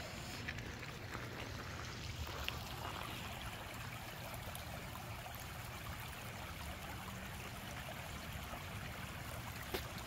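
The South Fork of the Licking River flows near its confluence with the North Fork, a faint, steady wash of moving water with light wind, continuous and distant throughout.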